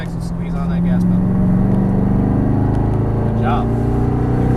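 A C7 Corvette Stingray at Exotics Racing in Las Vegas accelerates on the race track, its engine a loud, steady close-up drone from the cabin with no voices heard.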